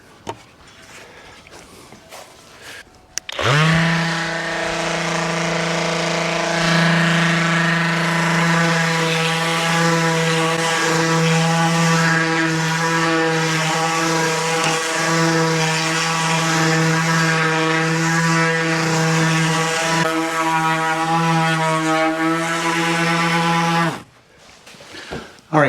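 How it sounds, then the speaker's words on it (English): An orbital sander with 80-grit paper works on wood during an entranceway renovation, a loud steady droning hum that starts abruptly and runs unbroken for about twenty seconds before cutting off. "So I've got 80 grit on my orbital sander, and that'll put it on pretty quickly."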